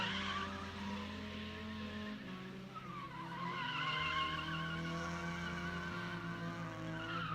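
A Mazda Miata drifts at a drift pit, its tires squealing in long wavering howls over a revving engine, loud and sustained throughout with no talk.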